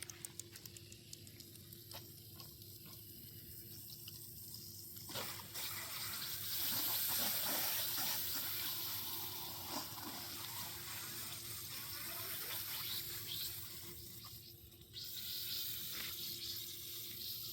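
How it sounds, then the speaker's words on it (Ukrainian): Running water pours from a faucet or hose to moisten soil around a freshly planted strawberry, a faint, steady rushing and splashing that grows fuller midway and drops off briefly near the end. "Все, водичка пішла."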